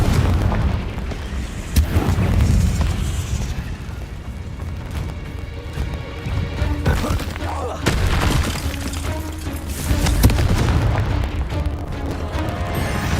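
Fire-spell blasts go off in the Hogwarts Legacy video game, loud booming bursts over a dense, continuous battle mix with music and effects.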